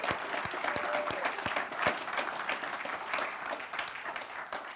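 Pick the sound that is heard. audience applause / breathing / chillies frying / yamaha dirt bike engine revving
audience applause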